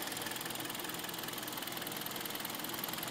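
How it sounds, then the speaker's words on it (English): The engine of a Hyundai ix35 Highlander idles quietly and steadily, a smooth, even hum with a light ticking pulse and no other sounds. "It is a very, very clean motor, very quiet motor"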